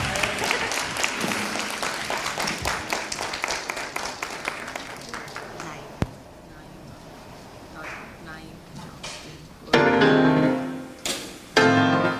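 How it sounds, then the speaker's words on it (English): Audience applause at a Black Heritage Month celebration, dense clapping for several seconds that thins out, then bursts of cheering and louder clapping near the end. "Let's give another round of applause for Praise and Motion's selection"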